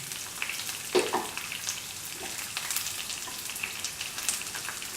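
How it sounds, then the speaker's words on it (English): Green chili sizzling in hot oil in a pan with onions for a yam and ash gourd stew, a steady soft crackle with a few brief louder pops, close and without talk. "Put in the green chili."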